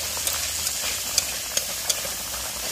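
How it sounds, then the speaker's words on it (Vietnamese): Rice stir-fries in a hot pan for a seafood and chicken dish cooked in lotus leaf, giving a steady close sizzle and hiss broken by a few sharp clinks of the utensil. "Đây mình xào gạo mình chiên cơm."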